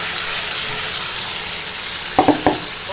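Fish roe sizzling steadily in oil with fried spice paste in a pan, a continuous close hiss joined near the end by a few quick scraping stirs.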